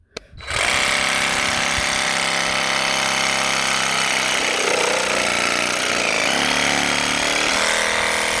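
A cordless Einhell GE-GS 18/150 Li sabre pruning saw starts up and runs continuously with a loud, buzzing whine, its pitch dipping slightly as it bogs under load cutting branches.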